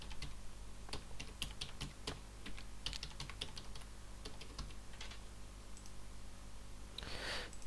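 Login mobile number and password being typed on a computer keyboard, with quick clustered key clicks coming in bursts throughout and a heavier flurry of keystrokes near the end.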